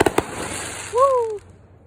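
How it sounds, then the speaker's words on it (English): Fireworks go off outdoors: a couple of sharp pops followed by a brief rising whistle that fades quickly, fairly loud and close. "Good old fireworks."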